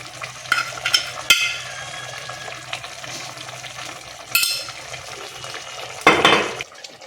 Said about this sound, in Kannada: ಸೌಟು ಅದರೊಳಗಡೆ ಹೋಗೋದೇ ಇಲ್ಲ ಹಂಗೆ ಮಿಕ್ಸ್ ಮಾಡ್ತಾರೆ